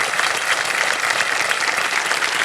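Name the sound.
audience applause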